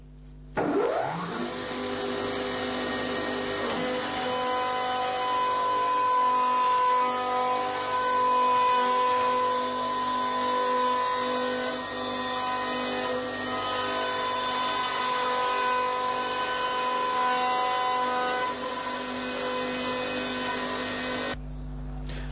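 A semi-automatic twin stair trencher cutting an open-flight stair stringer gives a loud, steady whining machine drone that starts abruptly, runs evenly for about twenty seconds and cuts off sharply.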